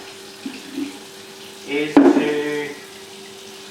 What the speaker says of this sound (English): While I'm filling the fermenter up with water